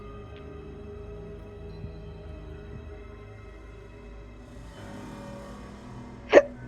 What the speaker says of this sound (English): Oof, burp.